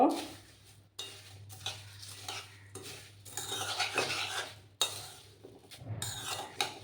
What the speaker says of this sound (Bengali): মুড়ির মধ্যে দিয়ে দিলাম দুটো ডিম নিয়ে আমি ভালো করে কিন্তু এটাকে মিক্স করে নেব